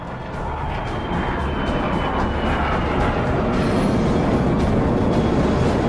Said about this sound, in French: l'avion Super 0G développe son énergie potentielle en s'élevant selon un angle de 45 degrés